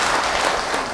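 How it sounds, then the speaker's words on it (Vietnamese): Students at a school class-group meeting give a sustained round of applause for a singer, a steady dense clatter of clapping hands filling the whole moment without pause. "Đề nghị các bạn tặng anh một tràng pháo tay."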